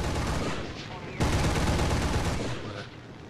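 Bursts of machine-gun fire from a Bf 110 fighter in War Thunder during a full simulator air battle, a loud dense rattle that breaks off, then surges again sharply and fades.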